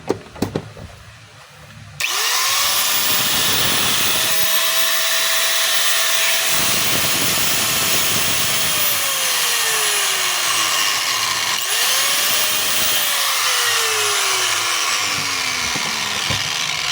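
A DeWalt DWE8200PL 4-inch angle grinder with a newly fitted armature starts up loud and close, runs at a steady high whine, then winds down and is spun up again briefly before coasting off.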